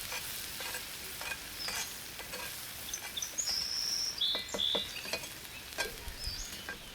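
Garlic stirred with a spoon in a clay pot for a barracuda tagine, with scraping strokes over a constant bright sizzle, close by, and faint bird chirps in the background.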